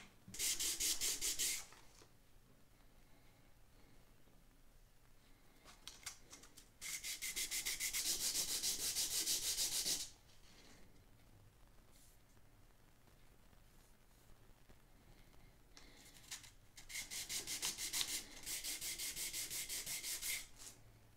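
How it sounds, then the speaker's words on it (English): Guitar bridge being sanded by hand, three close bursts of rough, hissing rubbing strokes separated by quiet pauses. "now I've sanded down till most of that line is gone"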